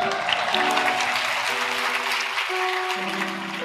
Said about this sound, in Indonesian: yang merasa cakep tepuk tangan untuk Tuhan